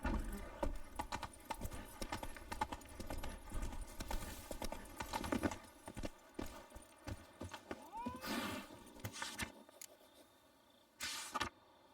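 A horse gallops in The Witcher 3 video game, a quick steady clip-clop of hooves with a brief whinny, close and fairly loud, and the hoofbeats thin out toward the end.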